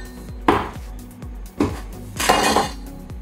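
A knife cuts through gluten-free pie dough on a marble countertop, giving three separate dull thuds and scrapes against the stone, with faint clinks between them.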